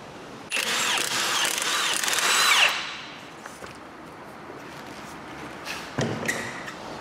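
A power tool spins off the drive shaft nut on a Mini Cooper S, a loud close whirring burst of about two seconds that winds down, followed by quiet workshop clatter and a short second tool burst.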